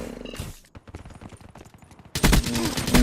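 KN-44 assault rifle fire in Call of Duty Black Ops 3 during a Last Stand match: a fast string of crisp automatic shots, then a loud, dense burst of continuous firing at the end.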